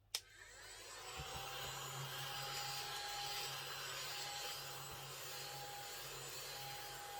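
Small vacuum cleaner sucking up ashes, starting with a click and then running as a steady whirring hum with faint scraping as it draws up the debris.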